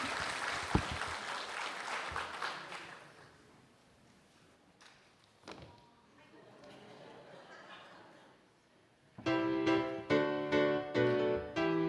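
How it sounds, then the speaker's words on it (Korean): A church congregation applauds during a Sunday service, a dense clapping that gradually thins and dies away before music with singing begins. "다시 한번 큰 박수 해주시기 바랍니다."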